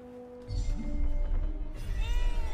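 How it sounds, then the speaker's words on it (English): A cat in Forspoken gives a drawn-out meow near the end, rising over a swelling low rumble of game music and ambience that fills most of the moment. "cat."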